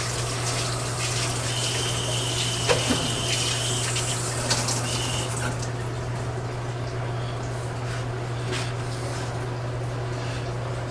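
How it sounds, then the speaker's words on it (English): Tap water gushes steadily into a sink while hands are washed beneath it. The flow is close and constant with a low hum, broken by a few faint clinks. "Let me wash off my hands."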